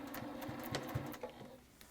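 A sewing machine stitches binding onto a quilt in short rhythmic bursts, close and fairly quiet, with light clicks between runs.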